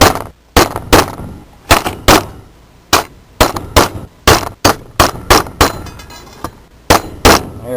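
A piece of rebar hammers against a metal part of a dual permanent magnet rotor for a wind turbine, sharp loud clanking strikes repeated in quick irregular bursts with short ringing decays, close by and without talk.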